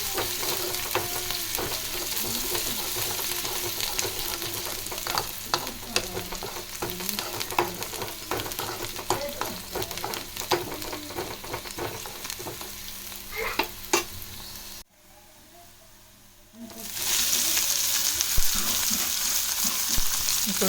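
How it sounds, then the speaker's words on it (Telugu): Spices sizzle in hot oil as a tempering for a broad bean and tomato curry, with steady frying crackle and repeated stirring scrapes; the sound drops out briefly near the end, then resumes. "ఇవి తాలింపు పెట్టుకుంటున్నాము"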